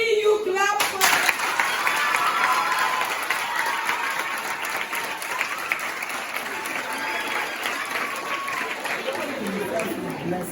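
Junior high school students at P.C.E. Demonstration J.H.S. in Ghana break into sustained applause, a dense steady wash of many clapping hands filling a room, loud and continuous from start to finish with faint crowd murmur beneath.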